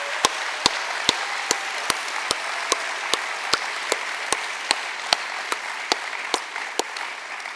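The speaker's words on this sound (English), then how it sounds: "Please give our candidates a warm round of applause." Sparse, fairly quiet applause from a conference audience for host city candidates at an association general assembly, with a steady wash of clapping punctuated by regular sharp knocks about twice per second.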